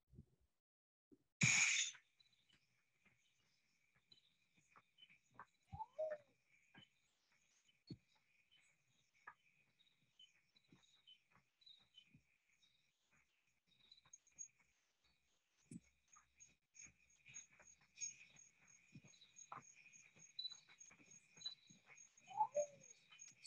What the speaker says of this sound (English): So listen to some of the sounds from the rainforest.